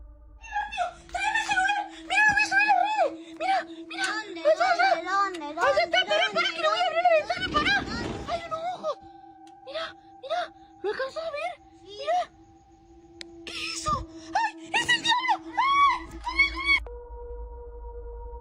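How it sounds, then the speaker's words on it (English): A woman screams in panic and fear in a played phone recording filmed outdoors, with repeated high wavering wails and whimpers over a steady tonal hum, a noisy burst midway, then cutting off abruptly. "she continuously screams in panic and fear before the video eventually ends abruptly"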